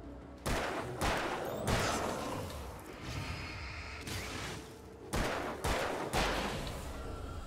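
Repeated gunshots from a firearm in the video game Alan Wake, several sharp close reports spaced irregularly across a dense, noisy background, with no talking.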